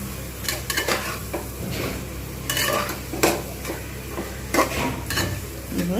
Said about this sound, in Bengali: এবার এটা আমি ধীরে সুস্থে কষবো